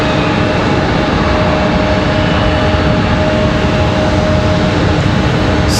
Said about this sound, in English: you guys can hear that MD-11